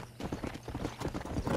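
Horse riding in Red Dead Redemption video game, quick close hoofbeats clopping in a steady galloping rhythm for a short stretch.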